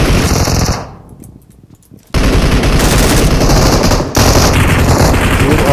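Rapid automatic gunfire in the mobile shooter game PUBG Mobile, loud sustained bursts that stop for about a second of near quiet and then resume hard and dense to the end.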